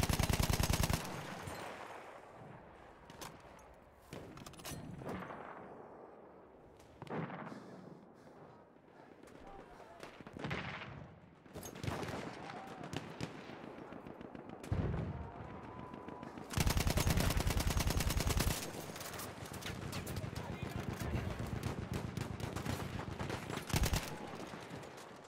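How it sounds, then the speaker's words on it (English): Enemy machine gun fire in the war game Battlefield 1 comes in heavy, rattling bursts and scattered shots that rise and fall. Loud volleys return near the end, with faint voices in between. "Enemy machine gun over there!"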